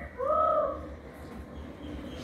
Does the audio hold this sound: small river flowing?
no